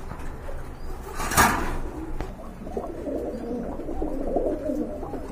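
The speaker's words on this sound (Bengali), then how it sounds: "ভিউয়ার্স দেখতে পাচ্ছেন এক জোড়া লক্ষা কবুতর রয়েছে" A pair of Lakkha pigeons coo softly and repeatedly close by at a pigeon market, with a sharp knock early on and low background rustling.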